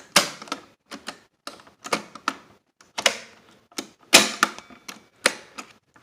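Play key and controls on a 1959 RCA SCP-2 stereotape cartridge recorder clack repeatedly, about a dozen loud, sharp mechanical clicks and thunks in an irregular rhythm, close to the microphone.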